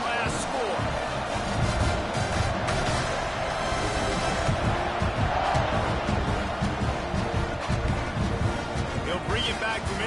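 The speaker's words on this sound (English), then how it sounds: "this crowd is buzzing after that last score" A football stadium crowd roars and buzzes continuously after a score, a dense, loud wash of cheering and shouting with scattered thumps and claps, and talk running throughout.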